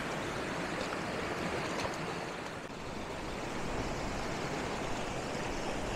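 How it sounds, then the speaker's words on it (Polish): Waterfall in Carding Mill Valley, a steady broadband rush of falling water that is loud, close and unbroken throughout, with no voices. "I teraz już się właśnie zbliżam do tego wodospadu."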